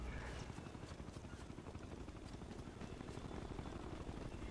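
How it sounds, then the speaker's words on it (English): Helicopter in the video game Ghost Recon Future Soldier, a steady dense rotor thrum filling the whole stretch at even loudness, with faint game sounds mixed in. "If that chopper spots us, it'll get messy real fast."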